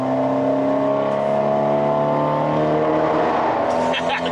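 A Fiat 124 Spider Abarth engine holds a steady, loud droning rev from inside the cabin, pitch easing slightly downward over a few seconds, with a voice heard briefly near the end.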